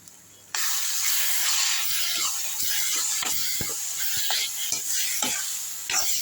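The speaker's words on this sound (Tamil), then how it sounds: "அதில் நல்லா கிண்டிடலாம்" Curry leaf and tomato thokku frying in oil and being stirred in a pan: a steady loud sizzle with repeated scraping stir strokes throughout.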